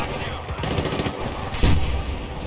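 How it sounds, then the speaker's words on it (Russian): Gunfire in the Battlefield Bad Company 2 video game: a dense rattle of rapid shots amid battlefield noise, with one heavier, louder blast near the end. "давайте-ка мы туда шмальнем"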